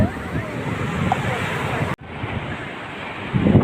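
Ocean waves breaking on Marina Beach in Chennai, a steady roar of surf mixed with heavy wind buffeting the microphone, swelling louder near the end.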